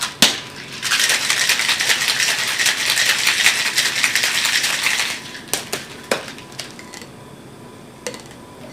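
Ice rattles hard inside a cocktail shaker as a martini is shaken, a dense, steady clatter for several seconds that stops abruptly and is followed by a few scattered clinks and taps.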